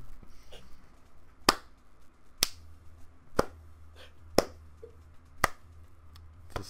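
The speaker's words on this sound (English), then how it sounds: "It's a slow clap of shame." Six slow, evenly spaced sharp claps ring out about once a second over a low game-background hum, a mocking slow clap during a Rocket League match.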